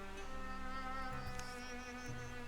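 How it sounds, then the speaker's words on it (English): Bees buzz in a Wildermyth video game scene, a thin wavering drone with a few brief louder passes over a quiet steady ambient bed, no voices. "the buzz of bees"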